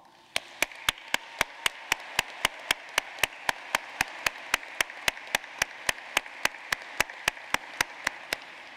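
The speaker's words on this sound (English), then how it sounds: "Please join me in saluting the class with a round of applause." Clapping for the graduating class at the Mercer School of Law 2021 commencement comes as a steady, evenly spaced run of sharp claps, about four a second, over a faint hall background.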